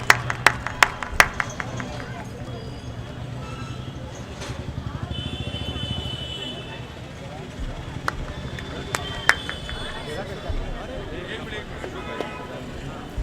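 Clapping from the audience at a Sagar mushaira, a sustained patter of many hands under crowd chatter and talk, with scattered sharper claps rising above it at the start and again later on.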